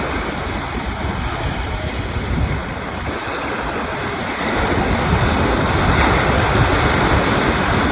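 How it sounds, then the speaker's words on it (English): Ocean waves wash onto a beach on Christmas Day in a steady, broad rushing surf with wind noise, swelling slightly louder toward the end, with no voices. "Christmas Day on the beach."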